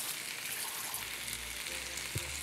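Olive oil, about a tablespoon, sizzling and frying steadily in a saucepan while making piperade with French pork, a continuous close hiss with a brief clink near the end.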